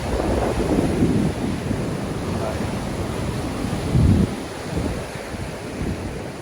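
Strong wind buffets the microphone at a snapper fishing spot on the shore, where rough surf and an opposing current churn, giving a continuous loud roar with heavier gusts.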